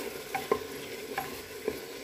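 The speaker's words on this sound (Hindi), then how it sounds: "अभी मिक्स कर लें और तब तक भूनें जब तक" Onions being fried and stirred in a pan for a chicken and spinach curry, with a soft steady sizzle broken by a few scraping spoon strokes against the pan, close and quiet, no talking.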